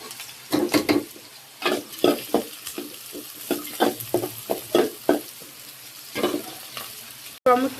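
Oil sizzles in a pan as curry is started on the stove, with repeated loud bursts of frying as the contents are stirred and a steady quieter crackle between them.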